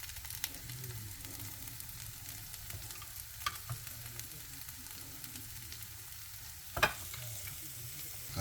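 Hash browns fry in butter with a faint, even sizzle over a low background hum, broken by one sharp clank of a utensil near the end.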